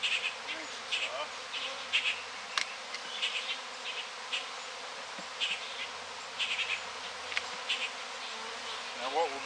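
A swarm of honey bees hums steadily outdoors, a dense layered buzz with individual insects passing close now and then, no voices over it.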